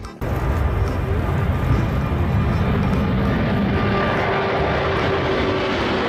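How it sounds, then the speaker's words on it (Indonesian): A loud, steady engine roar of an airplane, close and continuous, filling the whole stretch with a broad droning rush. "pesawat terbang."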